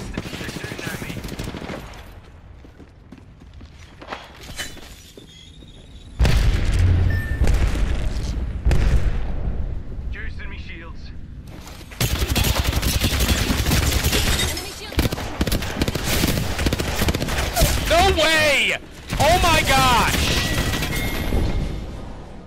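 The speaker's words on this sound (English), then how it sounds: "They're shooting at me." Bursts of video game gunfire and booms arrive in loud stretches separated by quieter gaps, with rapid shots and blasts, while a person talks over parts of it.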